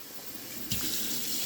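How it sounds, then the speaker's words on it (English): Water running from a tap to be added to chili made with chuck roast in a Ninja Foodi, a steady hiss that surges louder partway through as the flow strengthens. "I'm going to add a little bit of water just to make sure"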